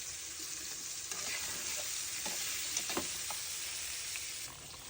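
Marinated duck meat with salt and turmeric sizzles as it is stirred in a pot for Bengali duck curry. A constant frying hiss carries scattered scraping clicks from the stirring.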